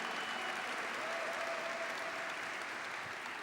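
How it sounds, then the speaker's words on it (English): Steady audience applause after a live Yucatecan music and dance performance by Grupo Aranero Mayab at a Latino Heritage Month celebration, a dense and even wash of clapping that continues throughout without pause. "We want another big round of applause, please, to Grupo Aranero Mayab"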